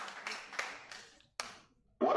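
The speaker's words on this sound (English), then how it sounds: "A round of applause for him." Scattered clapping from a small audience at a business and policy summit, sparse and fairly quiet, a handful of claps trailing off before a short loud noise at the end.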